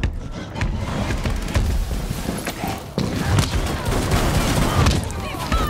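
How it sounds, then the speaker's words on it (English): Machine gun fire in Rainbow Six Siege, a steady stream of sharp rapid shots crackling throughout at fairly close range over a busy, noisy battle backdrop. "I don't know if I can really use my machine gun on him."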